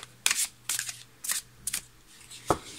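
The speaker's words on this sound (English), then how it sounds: "I'm gonna shuffle 3 more times because I was shuffling before." Tarot cards are shuffled by hand in several quick riffling bursts with short pauses between them, close and fairly quiet, with no talk over them.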